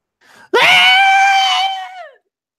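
A pony's shrill shriek in a tabletop role-playing story, voiced as one long sustained scream that rises sharply, holds loud and steady for about a second and a half, then trails off.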